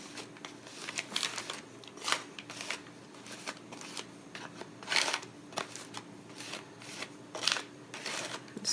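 Herbal powder pressed down into capsules, giving soft, irregular crinkly scrapes and light clicks with a few sharper bursts, close and fairly quiet with no talking.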